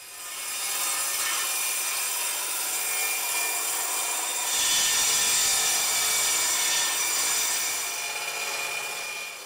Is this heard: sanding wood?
yes